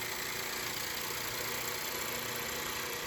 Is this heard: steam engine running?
yes